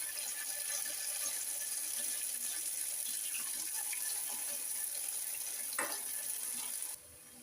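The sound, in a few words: unniyappam batter frying in hot oil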